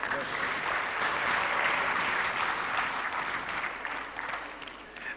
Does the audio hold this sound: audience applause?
yes